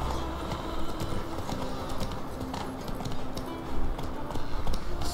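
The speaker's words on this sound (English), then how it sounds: "Yeah, they're horses." Horses clip-clopping in The Witcher 3, a dense, busy patter of hooves on ground, close and steady with brief louder bursts, over game ambience.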